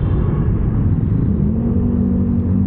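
A Moto Guzzi V85TT motorcycle engine runs steadily nearby, giving a continuous low, throaty rumble with a faint rising hum toward the end and no talking.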